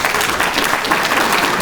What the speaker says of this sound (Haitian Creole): Ballon les applaudissements encore.